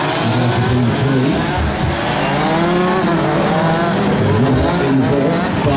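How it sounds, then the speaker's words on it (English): Race cars at the BNL Winter Trophy in Genk run hard around the circuit, engines revving loudly and continuously with passing whines and some tire squeal, a dense, steady roar throughout. "Lukoff looks very well racing behind Dr. Douglas"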